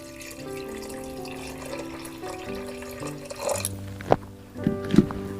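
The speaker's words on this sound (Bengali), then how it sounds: "এবার আমরা জল দিয়ে দেব।" Water is poured into a pot of mutton curry with potatoes, a running, gurgling pour with tonal ringing as the pot fills, ending in a few splashy sloshes and knocks.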